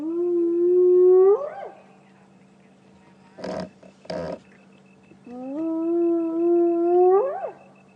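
A hyena clan calls at Djuma Game Reserve on an evening safari drive, with two long rising whooping calls near the start and end and two short sharp bursts between them, fairly close and clear against a faint steady hum.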